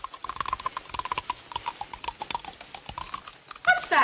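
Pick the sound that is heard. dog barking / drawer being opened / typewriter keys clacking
typewriter keys clacking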